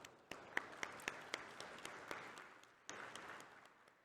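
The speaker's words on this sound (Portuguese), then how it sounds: "com uma salva de palmas" Sparse applause from a ceremony audience honouring a São Paulo Military Police intelligence colonel, thin and faint, a handful of distinct claps standing out over a soft wash before fading, with a brief renewed burst near the end.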